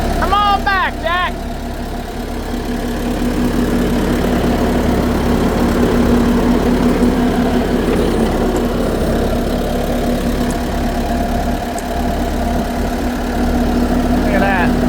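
A Bobcat 873 skid steer's diesel engine idles steadily close by at a house demolition, a constant low rumble with a hum running beneath it, and a brief high squeal comes near the start and again at the end.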